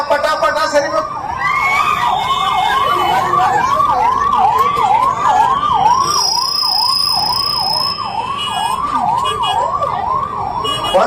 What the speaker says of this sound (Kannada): ಆ ಆಂಬುಲೆನ್ಸ್ ದಯವಿಟ್ಟು ಎಲ್ಲ ಜಾಗ ಕೊಡ್ರಿ ನೋಡೋಣ